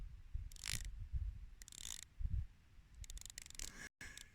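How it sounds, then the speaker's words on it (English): The 120-click unidirectional bezel of a Reactor Meltdown 2 watch is turned by hand, giving quiet, close, quick ratcheting clicks in short bursts with pauses between. "It's got a 120 click unidirectional bezel. Let's give that a listen."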